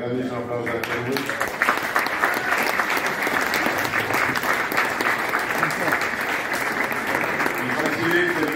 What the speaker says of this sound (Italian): gli facciamo un grandissimo applauso anche a lui